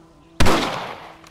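A single loud rifle shot cracks sharply at close range and then rolls off in a short decaying boom, heard in a Western-themed video game cutscene.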